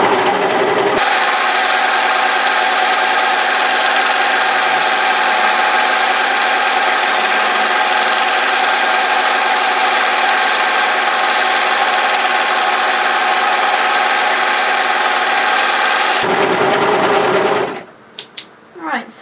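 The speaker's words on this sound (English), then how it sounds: "I have adjusted my overlocker settings to suit the fabric" Overlocker serger sewing a seam, a loud, fast, continuous mechanical whir that runs for about fifteen seconds and then stops abruptly, followed by a few faint handling clicks.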